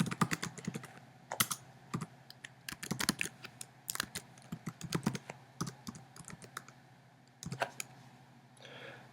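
An email address being typed on a computer keyboard, with quick clusters of crisp key clicks separated by short pauses, close and clear with no talking.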